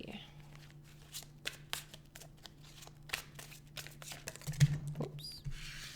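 Tarot cards being shuffled by hand, a series of soft, quick riffling and flicking bursts, close and quiet, with a low steady hum beneath.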